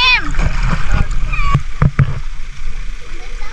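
At a beach in Masbate, water splashes in a few separate sloshes as someone wades through shallow sea, the splashes close and uneven, with people talking over them.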